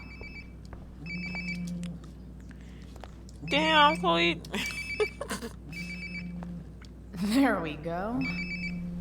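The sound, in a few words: mobile phone ringing nearby in a video game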